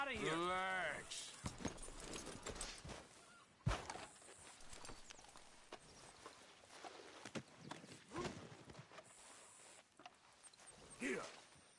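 Horse hooves clip-clop in Red Dead Redemption 2, a steady walking rhythm of soft, fairly close hoofbeats with a loud thump partway through, and voices talking over them.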